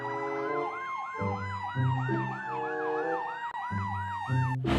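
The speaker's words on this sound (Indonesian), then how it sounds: "Ini mobil ambulan" A white toy ambulance sounds its electronic siren, a rapid repeating wail that stays loud and close throughout, layered over a steady pulsing melody with no voices.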